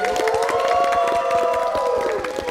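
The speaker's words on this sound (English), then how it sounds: "so I want to give a big round of applause for her once again." A studio audience gives a round of applause, dense steady clapping mixed with cheering and crowd noise, loud and sustained with a faint musical tone running underneath.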